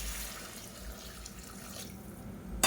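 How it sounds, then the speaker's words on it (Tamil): About half a litre of water pours steadily into a pot of sautéed ingredients for mutton biryani, a soft, continuous splashing rush, fairly close, ending in a brief louder splash. "ஒரு 1/2 லிட்டர் அளவுக்கு தண்ணி சேர்த்துக்கலாம்."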